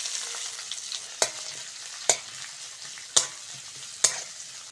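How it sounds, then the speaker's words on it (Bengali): Chopped onion frying in oil with dried red chillies and whole cumin over a village kitchen fire, a steady bright sizzle punctuated by four evenly spaced sharp spatula knocks against the pan, close up with no talking. "পেঁয়াজটা ভালো করে ভেজে নিয়েছি,"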